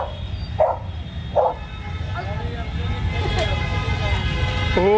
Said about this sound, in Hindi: ये सारे डॉग ना बहुत लविंगली हैं। इसमें गोल्डन रिट्रीवर, लैब्राडोर, वहाँ पे एकदम पिट है।